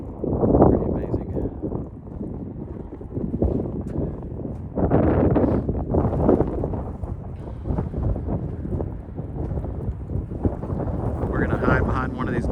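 Strong wind buffets the microphone on an exposed Icelandic coast among sand dunes, a steady low roar with gusting swells throughout, while a voice talks over it.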